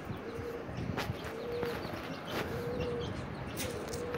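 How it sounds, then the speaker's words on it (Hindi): Pigeons coo softly in a repeating pattern of low, brief notes, with other faint bird calls and light background noise. "ये लेकिन 3 कबूतर इकट्ठे हो गए"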